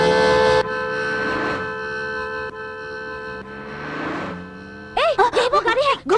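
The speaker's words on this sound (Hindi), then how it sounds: "सामने से कोई भी गाड़ी आए तो हॉर्न बजाना।" A car horn honks in a steady, sustained blare through most of the moment, with a voice cutting in briefly near the end.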